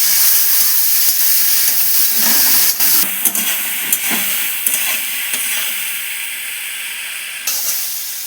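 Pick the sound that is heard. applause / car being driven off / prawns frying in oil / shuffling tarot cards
prawns frying in oil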